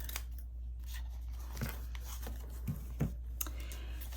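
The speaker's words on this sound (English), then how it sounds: "I'm just going to snip this bottom piece off." Scissors snip paper trimmed from a handmade journal ruffle, a handful of soft, crisp cuts close by against a quiet room hum.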